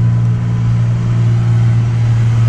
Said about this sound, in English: Got a loud truck there